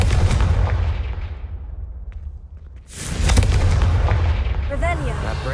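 A Confringo fire spell from the Hogwarts Legacy video game bursts in heavy booming blasts, one loud explosion trailing off and a second blast following, with rumbling low crackle throughout.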